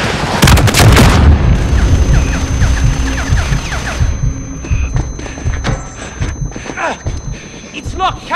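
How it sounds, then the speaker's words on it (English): Missile explosions in Call of Duty Modern Warfare boom loudly, a heavy blast at the start followed by further thuds and pops amid gunfire, with shouted voices over the combat. "Missiles incoming!"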